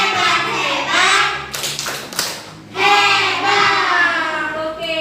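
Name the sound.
group 'tepuk hebat' rhythmic clapping chant in classroom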